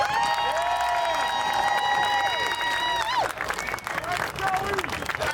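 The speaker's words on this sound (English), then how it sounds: "I'd ask first we give them a round of enthusiastic applause for their great effort" Rally crowd on Independence Mall in Philadelphia gives loud, sustained applause and cheering, a wide outdoor roar of clapping and voices, with sustained horn-like tones sliding over the top early on.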